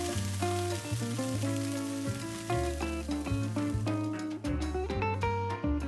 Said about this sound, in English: I just add the onions and the jalapenos to the pan, let them cook down a little bit and caramelize